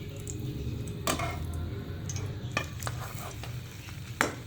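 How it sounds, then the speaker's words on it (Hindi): A chicken fajita cheese sandwich frying in a pan while being pressed down: a low, steady close sizzle with a few scraping and clinking spatula sounds scattered through it. "सैंडविच को हम अच्छे से पुश कर लेंगे ताकि ये अच्छी तरह फ्राई हो जाए"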